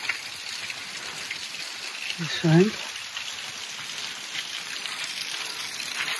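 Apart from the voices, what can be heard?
waterfall flowing over rocks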